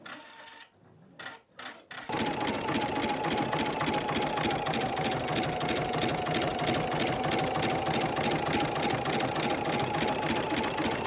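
A sewing machine running metallic thread at a loosened tension and slowed speed, starting after a couple of faint taps into a steady, loud, rapid mechanical whir with a constant hum, stitching on without pause.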